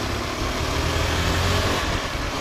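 KTM RC390 new-generation 2022 motorcycle engine revving in traffic on rough, potholed road, a steady loud rumbling drone throughout with no talk.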